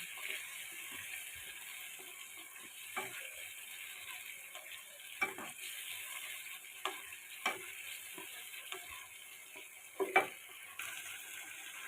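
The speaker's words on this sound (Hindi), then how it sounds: "मसाले की अच्छे से भुनाई हो रही है।" Spice masala sautéing into a thick gravy for potato chicken curry makes a faint, low bubbling sizzle, broken by intermittent sharp spatula taps and clicks against the pot.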